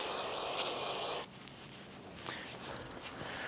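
A loud, steady aerosol spray hisses for about a second while cleaning a rear wheel bearing part on a 1994-2004 Chevrolet S10, then cuts off abruptly, leaving quiet with faint handling noises.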